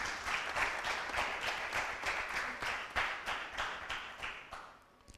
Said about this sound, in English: May we clap for all our partners.